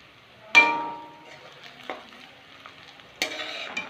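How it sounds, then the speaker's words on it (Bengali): Catla fish fat fries with onion in a pan, a quiet sizzle punctuated by a few sharp metallic clinks and scrapes of stirring. "শুধু পেঁয়াজ দিয়ে মাছের তেলটা ভাজা করেছি।"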